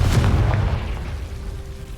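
A Confringo blasting curse goes off in Hogwarts Legacy as a heavy, low rumbling boom that fades slowly across the whole moment without any voices.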